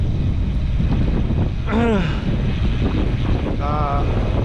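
Steady, heavy wind roars across the microphone of a cyclist riding a 200 km randonneuring route through hilly lake country, a constant close rumble with brief voice sounds poking through.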